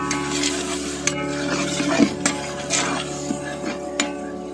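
Finely ground tomato paste frying in a pan with boneless chicken, a steady sizzle under repeated stirring, with spoon scrapes and light knocks against the pan at intervals.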